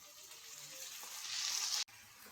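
Fenugreek leaves hit hot oil with green chillies for dal methi, giving a steady close sizzle that swells louder before a sudden brief cut, then resumes.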